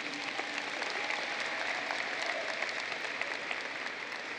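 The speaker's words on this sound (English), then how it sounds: "Let's give our teachers, administrators, and staff a round of applause." Sustained applause from a large audience at a 2023 high school graduation ceremony, a steady dense wash of clapping filling the whole stretch at even loudness.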